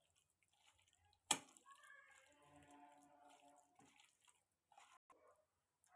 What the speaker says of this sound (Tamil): லைட்டாக நீங்கள் தண்ணி கூட ஆட் பண்ணிக்கோங்க